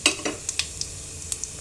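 Whole spices (carom seeds, cinnamon pieces, bay leaf, nigella and cardamom) dropped into hot oil, giving a crackling sizzle with several sharp pops and light stirring clicks, close by.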